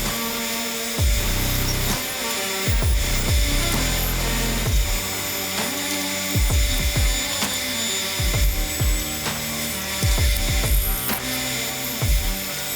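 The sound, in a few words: bandsaw cutting wooden boards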